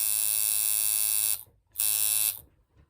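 A reworked Temu tattoo machine, now fitted with a different capacitor, runs with a loud steady electric buzz in two bursts separated by a short silence, with no talk.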